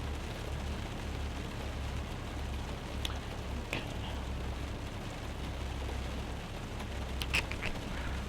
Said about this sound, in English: I'm afraid this rain might be drowning out my audio.